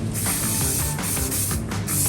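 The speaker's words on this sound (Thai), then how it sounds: "ฉีดอันนี้เป็นสเปรย์น้ำมันนะฮะสเปรย์น้ำมันเบา ๆตามด้วยสเปรย์ฝุ่น" Light oil spray hisses from a can onto hair being prepared for a curled updo, in several short close bursts with brief gaps and no talking.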